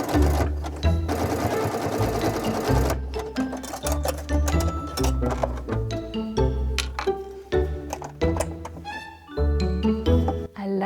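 A sewing machine stitches a fabric tote bag, running in several close, loud bursts of rapid mechanical chatter separated by brief pauses and clicks.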